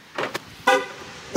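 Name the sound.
car horn chirp when locking the car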